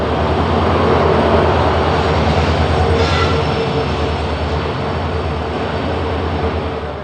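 A passenger train hauled by a KGM WDP 4D diesel locomotive passes close and loud, a continuous heavy rumble and wheel roar with a faint squeal, steady throughout and easing slightly toward the end.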